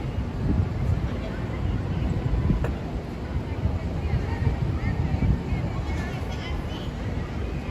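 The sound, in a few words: wind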